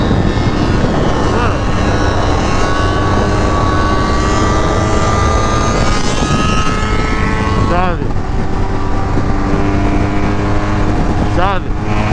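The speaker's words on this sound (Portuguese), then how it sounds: "Essa moto no piloto automático ainda" A 1200 cc motorcycle cruises at steady speed on cruise control along a highway, its engine drone buried in a loud, constant roar of wind that barely changes throughout.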